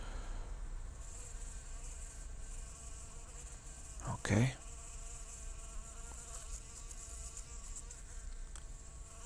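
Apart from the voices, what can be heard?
bee buzzing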